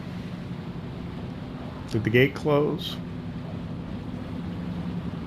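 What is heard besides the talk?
ferry motoring across river in video game Farming Simulator 25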